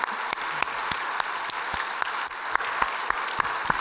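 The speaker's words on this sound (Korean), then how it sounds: "박수를 좀 많이 확실하게 뜨겁게" A church congregation applauds during a Sunday worship service, a steady wash of many hands clapping with a few sharper individual claps standing out, fairly distant and continuous throughout.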